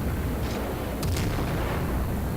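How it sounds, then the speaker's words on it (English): Incoming naval gunfire in the World of Warships video game, a couple of distant muffled booms of shells under a steady roar of sea and engine noise. "So I saw the incoming gunfire and turned my stern toward him"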